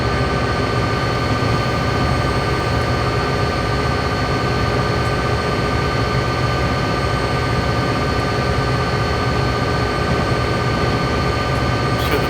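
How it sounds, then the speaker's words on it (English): Diesel locomotive engines at full throttle in the game Train Simulator 2013 on the Granite to Wycon route, a steady loud droning roar with a constant hum that runs unbroken throughout. "Hear the engines blaring there"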